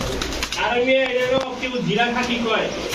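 Pigeons coo in deep, rolling calls that rise and fall, close by, with someone talking over and between them.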